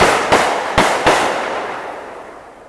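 A fireworks cake fires three sharp, loud bursts in quick succession, each followed by a crackling decay that fades over the next couple of seconds, with no voices.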